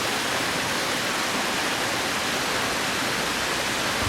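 A small river runs through Andorra, its rushing water a dense, steady broadband roar that stays constant and close throughout, with no voices.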